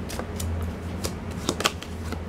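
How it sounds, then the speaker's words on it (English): Tarot cards being shuffled by hand, a quick run of crisp riffling and snapping flutters in irregular bursts, close up, with no speech. "I'm shuffling so much."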